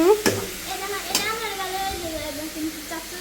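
Leafy greens sizzle in a hot pan as they are stirred, with two sharp utensil knocks over a continuous frying hiss and some faint vocal sounds.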